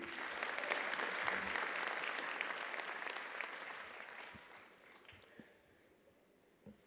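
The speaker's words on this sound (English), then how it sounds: "a very hearty round of applause for Dr." Audience applause at a Kenyan graduation ceremony, a sustained crowd clapping that stays steady for several seconds, then thins out and fades to a few scattered claps at the end.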